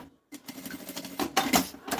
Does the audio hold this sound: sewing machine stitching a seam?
yes